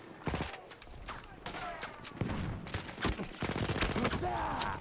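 Rapid bursts of gunfire in the video game Battlefield 1, overlapping volleys and single cracks firing in uneven clusters throughout, loud and close.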